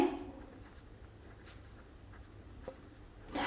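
Pen strokes scratch faintly on a board while a logic puzzle is being solved, a soft steady scraping with a few small taps, close and quiet, with no speech.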